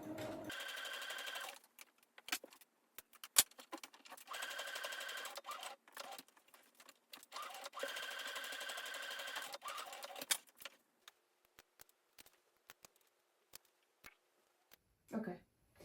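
A sewing machine stitches a bridesmaid dress in bursts of steady, rapid whirring, each lasting a second or two, separated by quiet pauses and faint handling clicks, with brief soft talk near the end.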